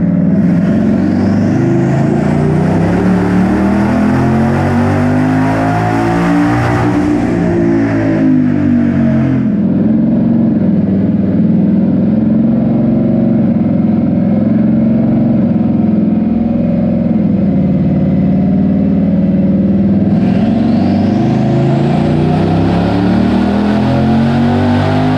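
A twin turbo 2020 Ford Mustang GT on a dyno, running on 93 pump gas, roars through long, loud, sustained pulls with engine pitch climbing and falling. The sound is close and constant, with no voices.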